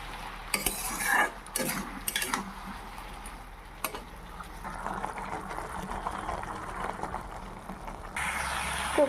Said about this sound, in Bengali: তো গাইস এখন এটাকে ভালো করে কষিয়ে নেব